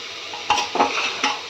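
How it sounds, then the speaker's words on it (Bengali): Broccoli being stirred into chicken in a pot for chicken soup: three distinct scraping strokes of a utensil against the pot over a low, steady sizzle, close and fairly loud. "একটু ভালো করে নাড়াচাড়া করে নেব"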